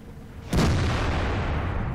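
A single tank cannon shot in World of Tanks, a sudden loud blast that decays into a long rumbling reverberation with no talking.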